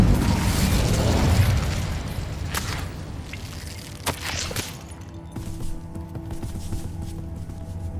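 A fire spell is cast in a Hogwarts Legacy game on PS5, giving a loud whooshing burst of flame that roars and then tapers into crackling bursts and pops with a lingering low rumble.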